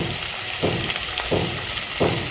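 Chili powder and cumin sizzle in hot oil for veg biryani, a steady crackling fry broken by three soft, evenly spaced stirring scrapes.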